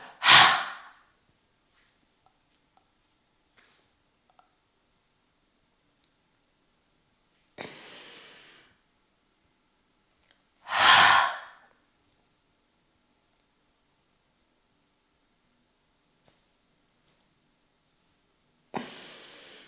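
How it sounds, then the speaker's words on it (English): Three forceful exhales through the mouth during a yoga flow, each a loud, breathy rush lasting about a second and spaced several seconds apart with near silence and faint clicks between them. "Forceful exhale through the mouth."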